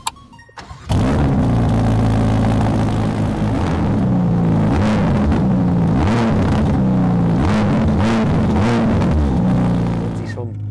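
A Ferrari engine fires up after a quiet moment and runs loud and close, a deep rumbling idle rising and falling through several blips of revving, then settling near the end.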